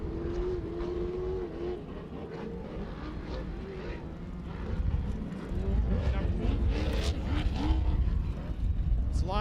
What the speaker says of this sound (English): Nick Mills driving a Truggy.